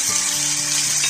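Vegetables with hing sauté in hot oil, giving a loud, steady, close sizzle that fills the short moment without a break.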